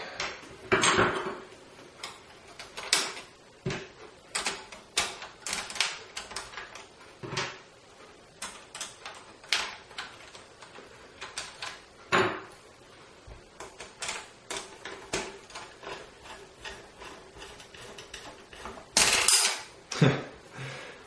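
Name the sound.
screws being tightened while repairing a PS3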